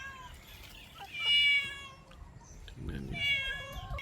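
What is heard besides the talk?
cat meowing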